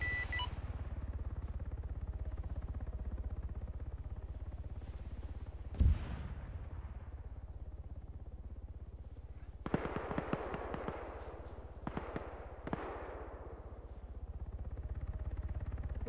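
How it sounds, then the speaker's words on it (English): Video game gunfire from Arma 3 in a firefight near a town: a lone sharp shot, then a cluster of rapid cracks and a few scattered later shots over steady low ambient rumble, fairly distant. "I've got some guys shooting at me from the forest north of the town."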